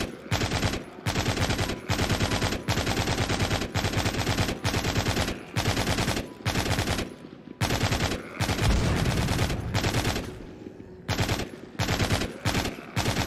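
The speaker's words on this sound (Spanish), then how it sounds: "cuando me está reventando el oído la ametralladora" Machine gun fire in the zombie shooter game Walking Zombie 2, loud rapid bursts of automatic shots separated by brief pauses, repeating throughout with no voice over it.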